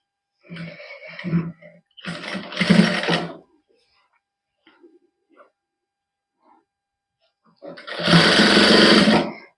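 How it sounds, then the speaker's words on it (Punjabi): A sewing machine stitching a salwar runs in three short bursts of whirring, each about one to one and a half seconds, separated by near silence with faint handling noises. The last burst is the loudest and fullest. "ਇਸ ਤਰ੍ਹਾਂ ਰੱਖ ਕੇ ਤੇ ਇੱਥੋਂ ਸਲਾਈ ਲਾਉਣ ਲੱਗਾਂਗੇ"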